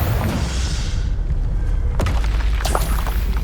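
Confringo fire spell detonating in Hogwarts Legacy, a heavy booming explosion with deep low rumble and a sharp thud in the middle, loud and close amid ongoing combat noise.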